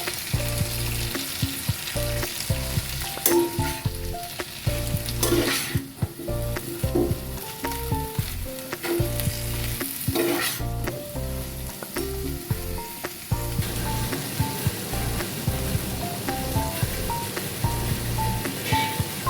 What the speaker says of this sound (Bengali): সবজির সাথে ভালো করে লাউ শাকটা মিশিয়ে নিচ্ছি।